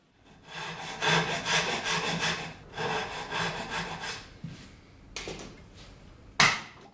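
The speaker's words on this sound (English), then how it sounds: "An additional saw cut, roughly the width of a chisel, makes it easier to chisel out the mortise next." A hand saw cuts wood for a Japanese double dovetail joint, with close rhythmic rasping strokes in two long bursts, then a few shorter strokes and a sharp knock near the end.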